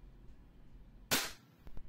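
An EMG TTI Sand Viper airsoft pistol running on green gas fires a single metal BB, a sharp, close crack that decays quickly, with a faint click shortly after and no talking.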